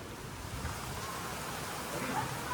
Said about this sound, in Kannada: ಸೊ ಆಗ್ರಾದಲ್ಲಿ ಮಳೆ ಬರ್ತಾ ಇದೆ